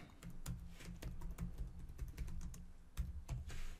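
Close, quiet clicking of a computer keyboard as a command is typed in a Linux terminal, with irregular bursts of keystrokes and no talking.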